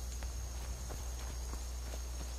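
Horse hooves clip-clop at a steady walking pace in Skyrim, the game on PS4, a series of soft repeated hoof strikes over a constant low background hum.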